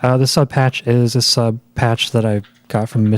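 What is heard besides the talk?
None of the usual background noises is heard.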